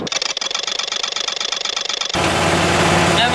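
An auto rickshaw engine idles close by in India with a steady, rough, pulsing rattle, then gives way abruptly to a louder, broadband rush of noise.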